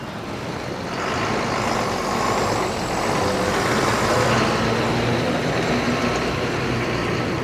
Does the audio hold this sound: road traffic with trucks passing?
yes